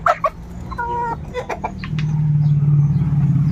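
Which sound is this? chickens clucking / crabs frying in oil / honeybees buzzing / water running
chickens clucking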